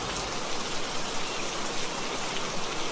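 Steady rain pours down outdoors during a cooking session for karupatti payasam, a dense, even hiss of drops on surfaces filling the whole stretch with no voices.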